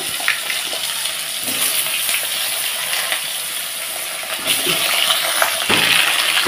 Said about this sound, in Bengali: তো এখন আমি একবারেই ফোড়ন দিয়ে দিচ্ছি